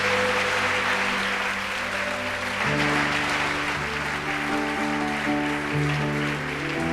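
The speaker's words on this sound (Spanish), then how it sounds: "da un fuerte, oye, aplauso a Él" A church congregation claps steadily in a sustained round of applause over loud worship music with a shifting bass and organ-like chords, no clear speech on top.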